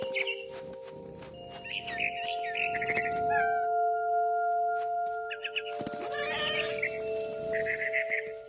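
Cat meows in the game What Remains of Edith Finch, several drawn-out mewing calls in two clusters over a sustained musical drone, fairly close and clear with a quiet gap in the middle.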